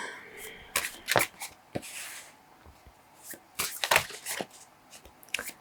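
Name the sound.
shuffling a slippery tarot card deck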